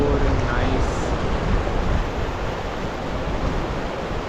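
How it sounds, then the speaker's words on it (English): Water flows near Pangong Lake in Ladakh as a steady, close, broad rushing wash, with wind noise mixed in and no clear voices. "Just the sound of water is so soothing"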